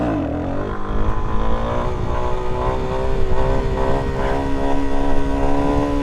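A Suzuki DR-Z400SM supermoto engine is revved hard in first gear during a wheelie attempt: a loud, close single-cylinder roar that climbs in pitch and holds at high revs throughout.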